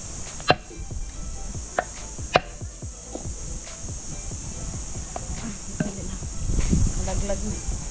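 Lapu-lapu grouper being hacked into pieces for frying in the Philippines, a series of sharp, separate knife chops with irregular gaps, heard close over a steady backdrop of chirping crickets and insects.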